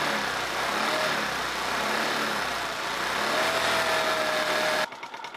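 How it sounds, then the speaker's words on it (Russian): A small scooter engine idles with a steady, close buzzing drone and a faint whine, cutting abruptly near the end. "на холостых оборотах двигателя"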